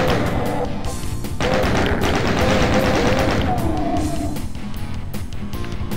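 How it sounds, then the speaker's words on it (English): Explosions in the 1993 video game DOOM, a dense run of thumping blasts and crashes layered over continuous game noise, loud and busy throughout. "A bunch of exploding."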